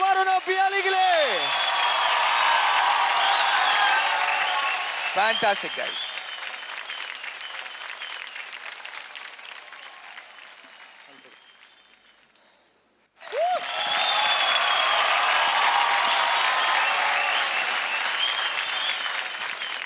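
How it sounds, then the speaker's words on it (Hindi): Loud studio audience applause for a dance duo on a televised dance competition stage, sustained broadband clapping that fades, briefly drops out, then surges back just as strong, with a host's voice speaking over it. "जोरदार ताली हो जाए वरुण और पियाली के लिए"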